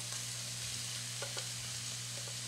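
Cubes of bacon and a plain white onion sizzle in a pan, giving a steady, fairly quiet frying hiss with a few faint clicks of stirring and no talking.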